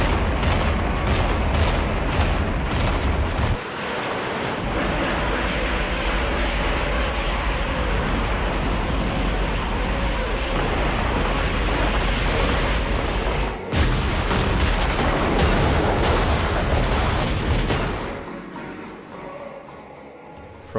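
Artillery in the Mius Front war game shelling a village, a continuous heavy roar of booming fire and rumbling blasts that stays loud and dense throughout, with brief dips before fading slightly at the end.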